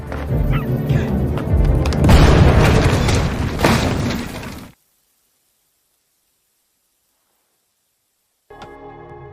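A car loaded with gas cylinders blows up in a film scene: a loud, rumbling blast with crashing debris for several seconds, then dead silence, then a quieter burst of sound returns.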